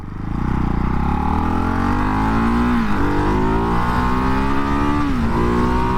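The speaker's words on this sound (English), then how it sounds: "Oh, that engine and exhaust sound so good" A 2024 Ducati Hypermotard 698 single-cylinder engine and exhaust accelerate hard in sport mode, climbing in pitch through gear shifts with brief dips, loud and close without talk.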